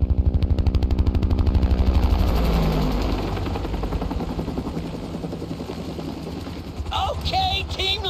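A helicopter in Grand Theft Auto Online beats with a loud, steady rapid rotor thump that drifts and softens over several seconds, before a voice speaks near the end.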